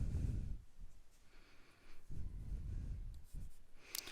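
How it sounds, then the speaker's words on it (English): Chalk or marker strokes on a board during a physics lecture, a few short scratchy bursts separated by pauses, fairly close and quiet, with no talking. "So I want to write the formula here"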